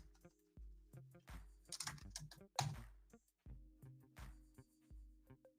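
Fingers tap on a computer keyboard in quick irregular bursts, crisp clicks close to the mic with short pauses between strokes.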